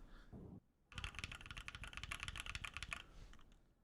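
Rapid keystrokes on a computer keyboard, a close, quick run of crisp clacks after a short pause, fairly quiet overall.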